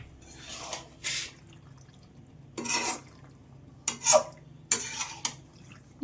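White sauce pasta stirred in a pan at home: a handful of separate scraping, clinking bursts of spoon against the pan, each short, with quiet gaps between them, close by and without speech.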